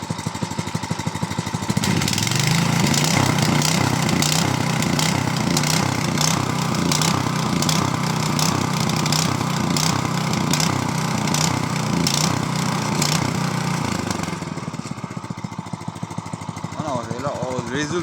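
A small petrol engine, opened up with throttle, runs at a loud, steady, rapid chug for about twelve seconds, then drops back to a quieter, rougher idle.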